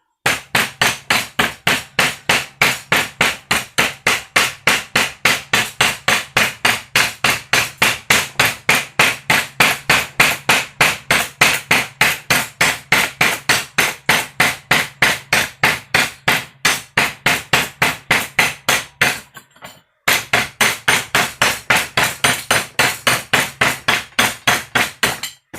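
A hammer chipping excess material off a weld on a Mazda RX8 part, sharp metallic strikes in a fast, steady, close rhythm continuing throughout, with one brief pause near the end.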